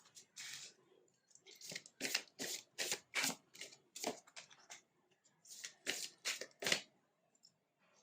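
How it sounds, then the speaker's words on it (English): Numerology cards for a tarot reading are shuffled by hand, making several close, soft riffling swishes in short bursts with pauses between, and no talking. "let's pick out some numerology cards for you"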